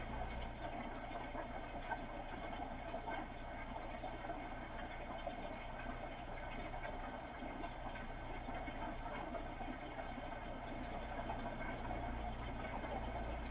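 A combine harvester idles, then creeps ahead. Its low steady engine drone holds even and fairly faint throughout, with no voices over it.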